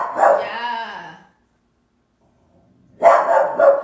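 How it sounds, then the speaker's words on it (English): Dogs being walked across a street bark and yip in two bursts, one at the start and one near the end with silence between, fairly close and loud with no talk over them. "There's dogs being walked across the street."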